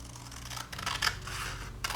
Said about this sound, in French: la prochaine étape consiste à découper les pages